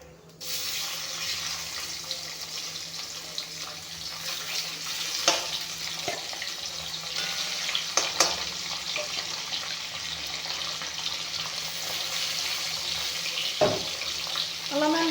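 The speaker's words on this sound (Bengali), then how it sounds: "এতিয়া মাছখিনি প্ৰথমতে ভাজি ল'ম" Fish pieces frying in refined oil in a hot wok, a steady wash of bubbling hiss with a few sharp clinks and spatters and a low hum underneath.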